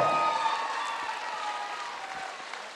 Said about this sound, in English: Round of applause, please, for these two guys.